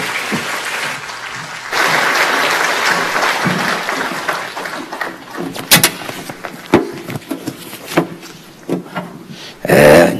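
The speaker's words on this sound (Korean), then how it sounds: "큰 박수로 환영해 주시기 바라겠습니다" An audience at a church elders' retreat applauds to welcome a pastor to the stage. Loud, steady clapping starts a couple of seconds in, then thins into scattered claps and thumps, with a final burst near the end.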